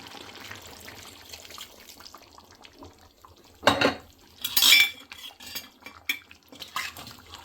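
Water poured into a pot of chicken curry on the stove, with a short splashy burst and clinking of a metal pot and utensils, amid quiet kitchen background.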